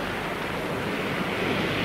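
Sea waves wash continuously onto the shore in windy weather, a loud, dense, steady roar of surf mixed with gusting wind noise and no pauses.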